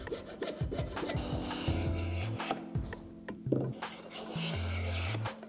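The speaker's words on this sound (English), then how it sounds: "I'm going to remove a little bit of the material and basically put a heavy chamfer on it" Hand chamfering the edge of a live-edge walnut side table, with steady rasping, rubbing strokes of a cutting tool on the wood, close and continuous with short pauses, and no talking.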